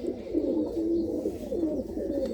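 Golden pigeons coo in a steady, low, throaty warble, close and moderately loud, with repeated rolling calls and no talk over them.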